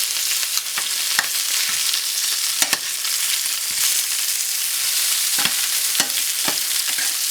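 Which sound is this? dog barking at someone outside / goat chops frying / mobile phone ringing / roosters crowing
goat chops frying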